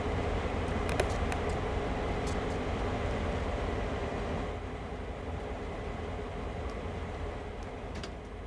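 An American train runs in Train Sim World 2 with a continuous rumbling roll of wheels and engine, steady and fairly loud, with faint clicks and clanks scattered over it and no talking.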